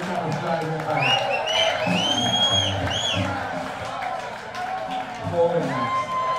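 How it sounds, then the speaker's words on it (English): Applause and cheering from the crowd at a live blues concert at Saint Rocke, with whoops and shouts rising over steady clapping throughout. "give yourself a big round of applause for coming out"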